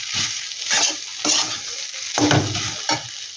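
A fried, crushed potato snack mixture with chopped coriander is stirred in a pan, giving rhythmic scraping and rustling strokes with a faint sizzle, about five close, distinct bursts.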